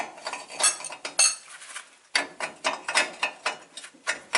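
A socket wrench ratchets on a bolt of a 1984 one-ton CUCV Chevy square-body truck, a close run of sharp metallic clicking bursts in uneven strokes with a brief pause midway, no voices.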